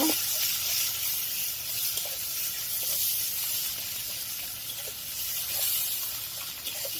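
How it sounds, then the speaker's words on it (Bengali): Onion frying in hot oil for a fish curry, a steady close hiss and sizzle with faint crackles scattered throughout. "পেঁয়াজটাকে ভেজে নেব"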